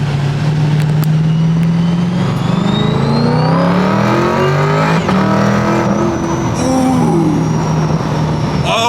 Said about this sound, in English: we can finally hear this car in all of its glory